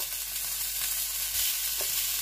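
Roasting vegetables sizzle steadily in a butter sauce in a pan, a continuous bright frying hiss with a brief stirring clatter, close and without talk.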